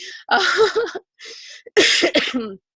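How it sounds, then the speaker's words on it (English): Several harsh coughs come close together in two short bursts, separated by a brief pause, near and fairly loud. "I'm sorry, I'm coughing at you guys."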